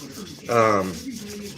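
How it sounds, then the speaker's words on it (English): A knife blade is hand-sanded with WD-40, giving a short, close rubbing rasp that swells for a moment then settles back into a soft background scrape. "But I'm hand sanding with WD-40."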